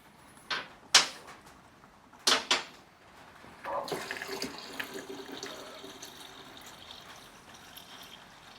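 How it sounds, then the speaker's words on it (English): Liquid coolant pours out of the drain on a motorbike water pump cover, a Yamaha RD500, running as a steady trickle after a few sharp clunks and knocks from the work, fairly quiet and close. "draining the coolant, we've got a 10mm"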